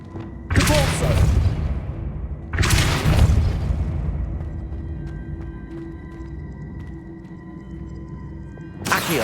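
In the Hogwarts Legacy video game, two Depulso force spells are cast one after the other, each a loud, deep, booming whoosh that swells and then fades, followed by a quieter stretch and the onset of a third burst.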